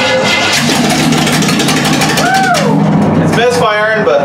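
A mini bike's small engine starts and runs roughly, misfiring with an uneven, sputtering rhythm, loud and close throughout, with a person talking over it.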